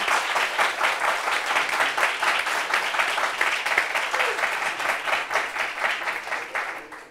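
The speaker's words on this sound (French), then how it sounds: "Applaudissements pour elle, s'il vous plaît" A television studio audience applauds a guest steadily for several seconds, a dense, even wash of many hands clapping close by with no pause.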